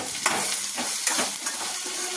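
Salted okra frying in a pan is stirred with quick scraping strokes over a continuous close sizzle, fairly loud and without any voice.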